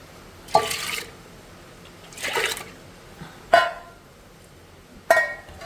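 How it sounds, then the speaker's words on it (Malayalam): Water poured from a vessel into a pot of sambar with dal in a home kitchen, splashing in four short separate bursts with quiet gaps between them. "ശേഷം കുറച്ച് വെള്ളം അങ്ങോട്ട് ഒഴിക്കാം"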